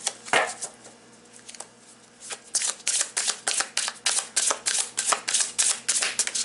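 Tarot cards being shuffled by hand, a few loose riffles and then a fast, even run of crisp rhythmic flicks and slaps, close and clear with no talking.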